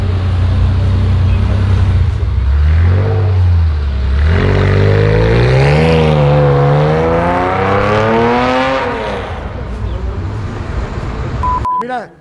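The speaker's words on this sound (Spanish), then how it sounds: "chequen este 911 que está saliendo viejito de Bestiauto y comparen el sonido" An old Porsche 911 pulling away and accelerating, its engine rising and falling in pitch through several gear changes, loud and close at first, then fading out before an abrupt cut.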